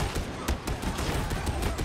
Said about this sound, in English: I'm trying to do cover fire for you.